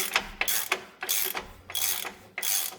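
A socket wrench ratcheting on an engine mount bolt of a 2002 Dodge Ram 1500 4.7L, in quick repeated bursts of close, crisp clicking separated by short pauses.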